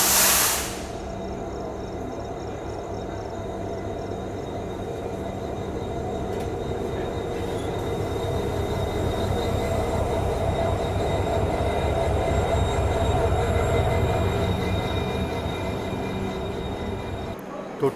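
A passenger train on Indian Railways departs on a ghat section with a steady, continuous rumble of wheels on rails and faint metallic squeal, building slightly in loudness before tapering near the end.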